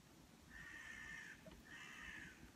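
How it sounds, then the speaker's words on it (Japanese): A crow caws twice in drawn-out calls from a distance over a faint outdoor background on a warm day in Sapporo. "カラスが鳴いてます。"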